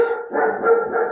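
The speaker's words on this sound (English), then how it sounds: "My crazy German Shepherd is barking at something." A German Shepherd barks two or three times in quick succession, loud and close, in a short burst.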